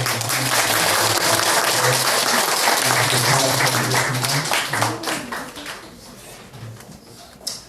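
A church congregation applauds at a gift presentation, steady, dense clapping filling the room for about five seconds before thinning out and fading, with a voice faintly underneath.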